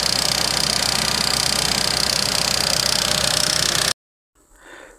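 A Honda S2000 engine with a failing timing chain tensioner runs close and loud with a dense, steady mechanical clatter for about four seconds, then cuts off abruptly into near silence with a faint rustle.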